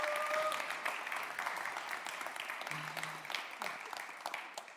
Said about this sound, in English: Yes, a warm applause